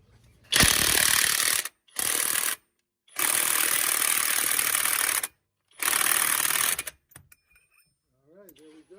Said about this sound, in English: Increase the speed on my impact.